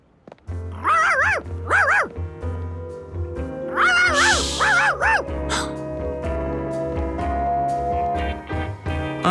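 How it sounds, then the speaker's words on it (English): A cartoon dog in Curious George barks in two quick bursts of high, wavering yelps, then again in a longer run of barks, all over a steady background music score. "A barking Charkie was even worse than a puddle."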